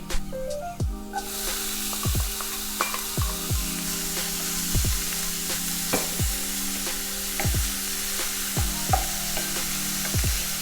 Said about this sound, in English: Our garlic is sizzling